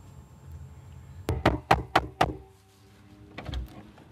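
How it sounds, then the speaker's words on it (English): Someone knocks on a door with five quick, loud, evenly spaced raps, then a softer pair of knocks follows a moment later in an otherwise quiet room. "who that is knocking at the door like that?"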